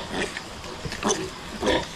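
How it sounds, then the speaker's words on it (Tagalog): Hybrid piglets grunting and oinking close by in a few short bursts, with brief gaps between them and no talking. "Yan po ating mga hybrid na biik."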